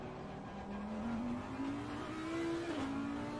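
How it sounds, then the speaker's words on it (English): A race car roars close behind in a racing game at the Suzuka circuit. It gives a deep, continuous engine drone whose pitch climbs steadily, then drops briefly as the car shifts. "You can hear the car."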